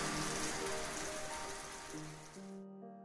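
Heavy rain pours down in an animated cartoon as a dense, steady hiss that cuts off abruptly near the end, with soft sustained music tones underneath.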